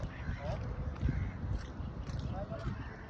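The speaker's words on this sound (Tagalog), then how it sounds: "look at that motor. That's a cool motor." A boat motor runs with a steady, rumbling drone at moderate distance, outdoors near a market, under a voice.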